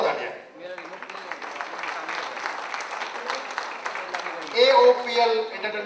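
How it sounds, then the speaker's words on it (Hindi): Dense applause from an audience at a Bollywood film press meet for 'War Chod Na Yaar' runs for several seconds, then a voice starts speaking over the clapping near the end. "जोरदार तालियां।"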